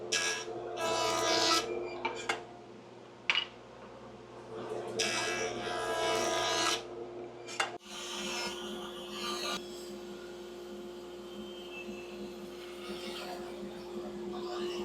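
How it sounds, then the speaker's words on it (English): A jointer flattens a wooden piece for an F-clamp rack in a workshop, with several bursts of harsh rasping cutting over a steady motor hum, then a lighter, quieter drone as the machine keeps running. "I'm now going to flatten part of it on the jointer"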